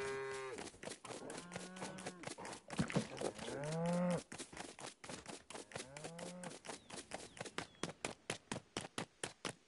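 Cows in the Lego Fortnite video game moo repeatedly in long, wavering calls over a steady stream of rapid, even clicking footsteps, loud and close throughout.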